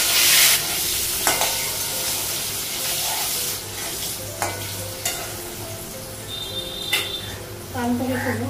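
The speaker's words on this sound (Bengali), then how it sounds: "আলুটা ভাজবো।" Potatoes fry in mustard oil in a pan on a gas stove, making a loud, dense sizzle throughout with a few sharp stirring knocks and clinks.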